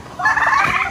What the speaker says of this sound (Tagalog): Yung mga pabo na yan, di yan maiwasan na mag-away kasi galing doon sa loob.